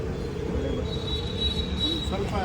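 A train rumbles past nearby with a steady low roar and a thin high squeal from the wheels, heard continuously from inside a car.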